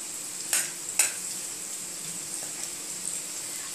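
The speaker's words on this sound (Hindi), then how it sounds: "अब हम अदरक को थोड़ा सा भुनेंगे।" Ginger roasting in a pan gives a soft, steady sizzle and frying crackle. Two brief stirring knocks sound near the start, and the texture stays low and even throughout.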